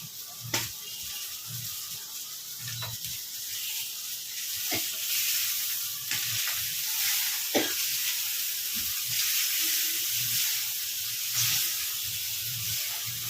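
Chicken pieces for butter chicken fry in a pan with a steady, close sizzle and hiss, broken by a few sharp clicks and scrapes of stirring; no one talks.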